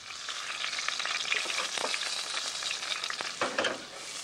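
Onion, celery and carrot soften in a little butter in a pan, frying with a steady close sizzle and occasional stirring scrapes, no voices.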